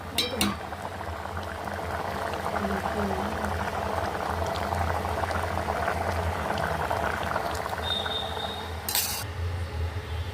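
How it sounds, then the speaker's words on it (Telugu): Okra tamarind stew simmers and bubbles in a pot with a continuous, dense boiling burble close by. Light clinks of utensils and a brief sharp metallic clatter cut in near the end, and voices talk faintly underneath. "ఇది మరగాల కాసేపు"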